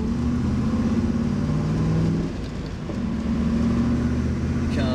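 A Triumph TR8 engine fed by a Weber carburetor revs with a steady low drone and a brief dip in the middle before the pitch climbs again, heard close and alone.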